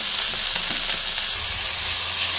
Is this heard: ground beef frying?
yes